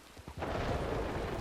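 Thunder from a lightning strike in the video game Red Dead Redemption rolls out as a loud, sustained low boom that swells after a brief lead-in and rumbles steadily to the end.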